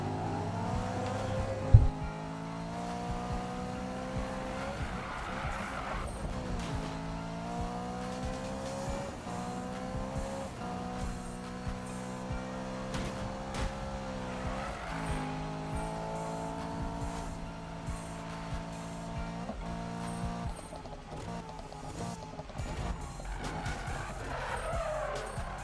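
A BMW M3 in Need for Speed 2015 roars down a highway, its engine climbing repeatedly through the revs with sharp drops at each gear shift, and tires squealing now and then, loud and close throughout.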